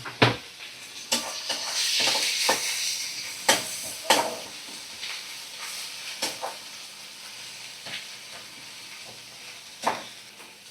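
Ginger-garlic paste with chopped green chilli and tomato frying in a pan, a soft continuous sizzle punctuated by sharp spatula taps and scrapes.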